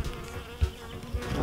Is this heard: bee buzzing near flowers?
yes